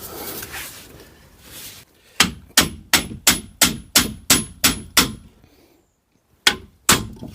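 Hammer blows drive a wheel bearing into the front hub of a Peugeot 107, about nine sharp metallic clangs at a steady rhythm, a pause, then two more strikes, loud and close.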